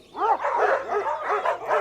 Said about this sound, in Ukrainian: Де не взялась собака в біса, чи з під воріт, чи з за ліси, присікалася, аж вищить.